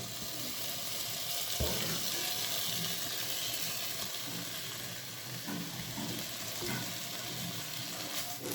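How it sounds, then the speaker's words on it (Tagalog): Bacon frying in a non-stick pan with a little oil, a steady close sizzle and crackle running throughout, with a few sharp pops and utensil knocks. "We're frying the bacon."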